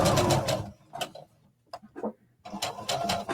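Home sewing machine stitching a jacket seam, bursts of rapid mechanical needle chatter at the start and end with a pause of scattered clicks between, close and moderately loud.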